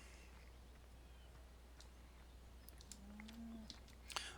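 Cows in the Farming Simulator 17 game near a silage bunker on a custom farm map, giving a soft, distant moo about three seconds in, low and drawn out over faint ambient farm noise, with small bird-like chirps near the end.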